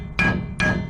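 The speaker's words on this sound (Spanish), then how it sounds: "Ahora con un martillo por el sonido." Two sharp hammer taps ring out on a suspension bolt of an International 4700 rollback truck, struck to check its tightness, each hit leaving a bright metallic ring that fades quickly, close and loud with no talking.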